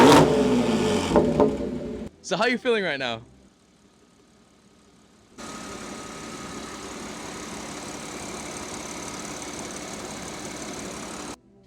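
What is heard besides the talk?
supercharged Audi S5 engine revving and idling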